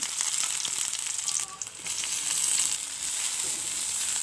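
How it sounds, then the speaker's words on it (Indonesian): Finely chopped spices sauté in hot oil in a pan, a steady close sizzle and fry with a brief dip midway and light stirring scrapes; no talking. "Selanjutnya tumis bumbu-bumbu yang sudah dipotong halus tadi."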